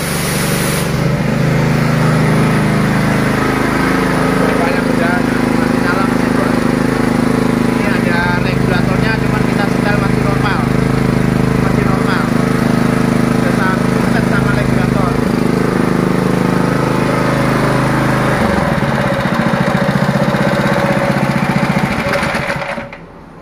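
High-pressure 180-bar plunger pump used for washing motorbikes and cars, running with a steady mechanical drone and rhythmic whine, loud and close, with speech over it before the motor winds down near the end.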